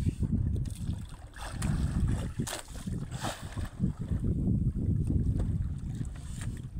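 Low rumbling engine of a bangka outrigger fishing boat on open water, mixed with wind buffeting the microphone and splashing, steady throughout with no talk.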